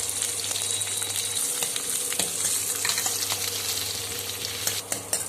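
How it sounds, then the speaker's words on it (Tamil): Curry leaves, coriander, mint and cashew bits fry in hot oil for an egg bread sandwich, a steady close crackling sizzle with a few light stirring knocks toward the end. "இப்போ எண்ணெய் ஹீட் ஆன உடனே கருவேப்பிலை மல்லி புதினா போட்டு வதக்கிக்குங்க."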